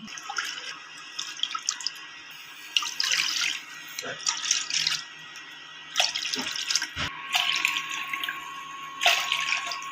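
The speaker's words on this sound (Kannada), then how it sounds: "ಈಗ ಒಂದು ಕಡಾಯಿನ ತೆಗೆದುಕೊಂಡು ನಾನು ನಾಲ್ಕು ನಾಲ್ಕು ಕಪ್ಪಷ್ಟು ಹೆಚ್ಚಿದಂಥ ಪೀಸಸನ್ನು ತಗೊಂಡು ಇದರಿಂದ ಐದರಷ್ಟು ಐದು ಕಪ್ಪಷ್ಟು ನೀರನ್ನು ಹಾಕ್ಕೋತಾ" Water is poured into a kadai holding chopped watermelon rind, heard as several close, splashy, running bursts separated by brief pauses and small knocks.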